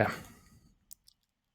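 After a fading sound, a computer mouse gives two quick, faint clicks in near silence, close by.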